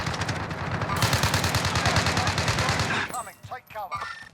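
Rapid, loud automatic gunfire from the video game Call of Duty Warzone fills the first three seconds, followed by fainter shots as players talk.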